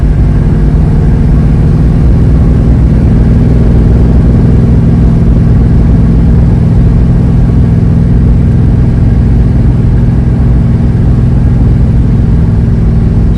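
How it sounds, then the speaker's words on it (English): A 1967 Dodge Coronet 440 with a big block V8 cruising at 70 mph on a back road, a loud, steady, close engine drone and road rumble that holds constant throughout. "I'm doing 70 on this back road, and it rides good"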